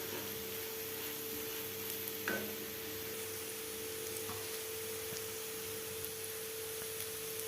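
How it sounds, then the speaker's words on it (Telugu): Potatoes frying dry with masala in a pan for alu fry, a steady close sizzle with occasional stirring scrapes throughout, no talking. "కొంచెం మసాలా వేసేసుకొని బాగా ఫ్రై చేసుకోండి ఫ్రెండ్స్."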